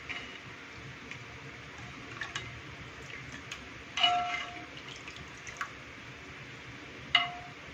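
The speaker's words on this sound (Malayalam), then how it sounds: "നെല്ലിക്ക കുറേശ്ശായിട്ട് ഇതിലേക്ക് ഇട്ട് കൊടുക്കാം" Indian gooseberries dropped a few at a time into a pot of boiling salted water for pickle, giving sporadic plops and clinks over a steady bubbling hiss.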